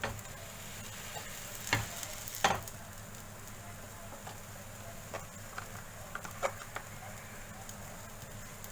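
A pav bhaji sandwich toasts in butter on a tawa, giving a faint, low sizzle with a couple of sharper clicks and scattered small crackles, quiet and without voices.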